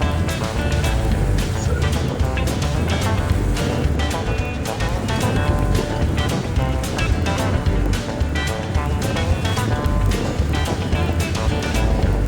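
A ferry boat motors along on the sea near Koh Samui, a constant dense rumble of engine and rushing wind and spray, loud and unbroken throughout.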